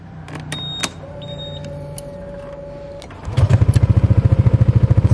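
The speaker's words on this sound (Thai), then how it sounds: "สตาร์ทแล้วนะครับโอ้โหนุ่มมากครับเสียงนุ่มมากนะครับ" A 2016 Honda PCX 150i scooter with keyless remote starts after a few clicks and a faint whine, then settles into a close, steady, pulsing idle.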